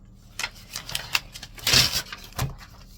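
A pen writes on a sheet of paper, close and fairly loud, with a series of short scratchy strokes and taps spaced irregularly over a few seconds.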